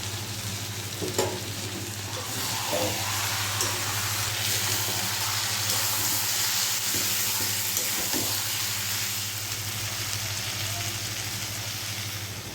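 Rice in one pot and meat curry in another cook side by side on two stoves, giving a steady close hiss and bubbling over a low constant hum, with a few faint clinks and no talking.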